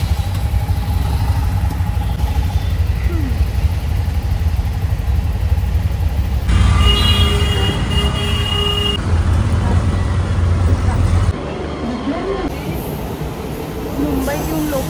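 Heavy vehicle traffic rumbles continuously near Andheri station in Mumbai, a loud low drone with passing engine noise and occasional horn-like tones, with a person talking over it.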